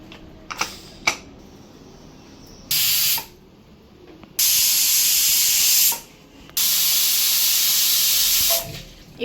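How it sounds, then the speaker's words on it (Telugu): A pressure cooker cooking mutton keema curry vents steam in three loud, sustained hissing bursts, each lasting a second or more, after a few light clicks, with no voices. "ఇప్పుడు మనం 3 విజిల్స్ పెట్టాలి."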